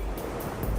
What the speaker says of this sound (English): As the water flows over the rapids, it cuts deep into the bedrock below.